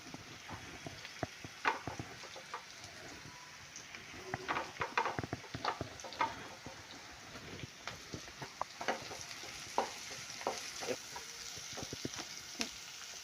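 Onions and green chillies with cumin fry in oil for a Telangana-style bitter gourd fry, a faint low sizzle broken by irregular clicks and taps of a stirring utensil.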